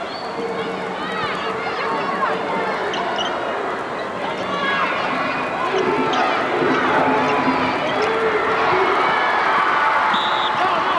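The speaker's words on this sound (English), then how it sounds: "Boy, the crowd is really into this game." Crowd at a 1984 Minnesota girls state basketball semifinal, Little Falls Flyers playing, a steady loud hubbub of cheering filling the gym, with faint shoe squeaks and ball bounces in the background.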